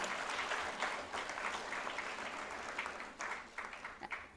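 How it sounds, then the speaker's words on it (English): Audience applause at an HCLTech Grant 10-year celebration award ceremony in India, a steady dense wash of many hands clapping throughout, moderately distant and filling the hall. "A huge round of applause for Ms. Abrams"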